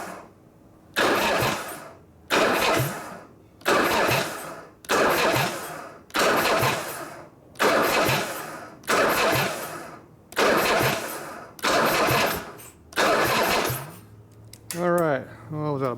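The starter on a 1967 Harley-Davidson 74ci shovelhead FLH cranks in about ten regular bursts, each roughly a second long and separated by short pauses, with a metallic grinding edge. A final rougher burst follows, then a fading rumble.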